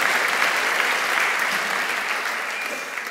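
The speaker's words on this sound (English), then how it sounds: "So give yourself a round of applause." An audience applauds steadily at a live dialogue event with Lawrence Krauss and Peter Singer, a dense, even wash of clapping at close range that fades slightly toward the end.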